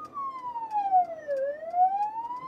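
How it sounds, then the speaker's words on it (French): Emergency vehicle siren wailing in traffic, a single loud near tone sweeping steadily down then back up, heard alone without voices. "dès qu'ils entendent la sirène, ils doivent ouvrir le passage"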